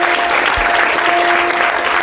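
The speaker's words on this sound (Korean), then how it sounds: "힘찬 박수로 신부를 맞이해 주시기 바라겠습니다" Wedding guests give a loud, dense round of applause as the bride enters, continuous close clapping from a large crowd.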